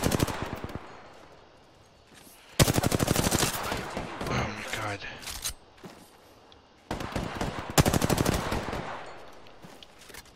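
Rapid automatic gunfire in the video game Apex Legends comes in several loud, dense bursts separated by quieter stretches of distant shots and game noise.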